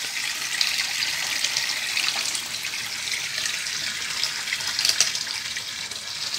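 Water runs steadily from a tap into a sink and drains away, a continuous close gushing splash with small surges, no talking.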